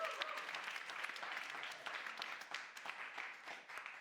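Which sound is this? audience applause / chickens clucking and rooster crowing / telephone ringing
audience applause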